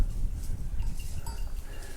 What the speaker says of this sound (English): I don't want to bother the goat.